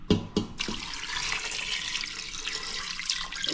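Water is poured into a cooking pot for beef nilaga. A few quick knocks come first, then a steady stream splashes and gushes continuously at close range.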